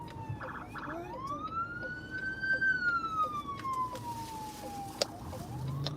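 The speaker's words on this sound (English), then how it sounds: "Look, police car" A police car siren wails in a long rising and falling sweep from a moving vehicle in city traffic, fairly distant under faint road noise and a brief sharp knock.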